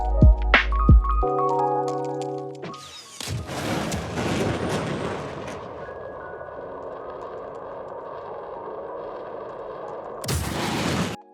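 In the Star Citizen video game, bombs explode in sharp booming blasts: a few heavy hits open, then a long rumbling burst with a steady electronic drone and tones beneath, and another loud blast near the end.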